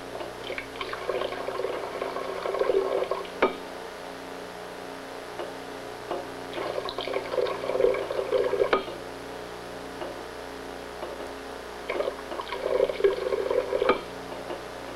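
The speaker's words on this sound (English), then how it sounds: "let's add some hot water to the system." Hot water poured into a container during a chemistry lab vapor-pressure experiment makes faint liquid trickles and gurgles in three separate bursts, with soft ticking and clinks between them and no voices.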